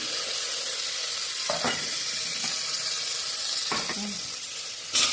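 Onions and green chilies sizzle steadily in hot oil for an aloo pulao, a continuous frying hiss broken by a few scraping stirs, close and fairly loud, with no talking.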